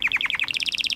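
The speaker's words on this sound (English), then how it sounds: "Parrots are loud." A pet parrot gives a loud, rapid series of sharp chirping calls, about a dozen quick notes in a steady rhythm that step up in pitch partway through, close and piercing.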